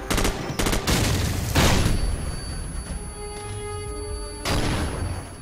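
Call of Duty 4 gunfire: loud, close rapid bursts of automatic shots and heavy blasts that continue densely throughout without pause, with no talking.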